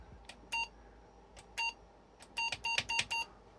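Short electronic beeps from a Franklin Ace 1000 computer at power-on, showing a garbage screen fault, a few spaced single tones followed by a quick cluster of four or five, fairly crisp against a quiet background.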